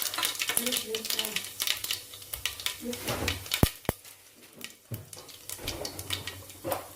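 Mustard seeds, urad dal and cumin sizzle and crackle in hot oil as a tempering for okra sambar, with brief sharp pops and stirring clatter, under intermittent talk.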